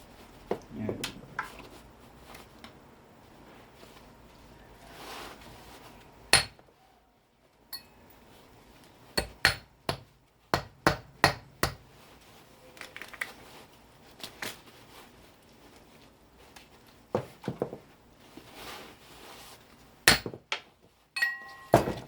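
Repeated sharp hammer blows crack and clink against electronic components from circuit boards, irregular strikes spread throughout with brief pauses and some rattling between.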